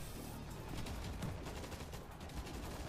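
Rapid gunfire from a weapon in the zombie shooter game World War Z, a continuous crackling stream of shots at a steady level without pauses.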